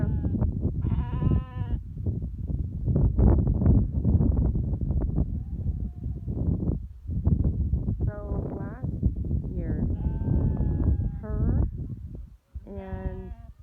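Sheep bleat several times, sharp harmonic calls around the start, middle and end, mixed in with steady close talking from people nearby.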